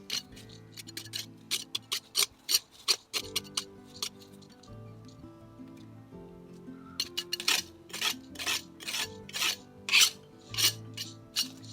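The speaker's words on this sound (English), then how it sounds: "I'm using an old trowel and just digging around some stones." An old hand trowel scrapes and digs around garden paving stones, giving sharp, close gritty rasps in irregular bursts with quiet pauses between.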